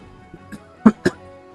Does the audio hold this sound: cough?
yes